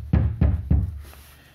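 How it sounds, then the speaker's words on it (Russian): Three loud, sharp knocks in quick succession as M-Tac MK-2 sneakers with hard TEP thermoplastic soles strike the floor, followed by a fading tail. "При ношении очень сильно стучит."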